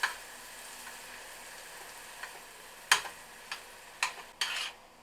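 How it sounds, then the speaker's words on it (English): Ground pork sizzles steadily in a hot pan for a spicy stuffed-zucchini filling, with a few sharp scraping knocks as the meat is broken up, clustered toward the end. "So I'm going to add the pork to the pan, break up the pork meat."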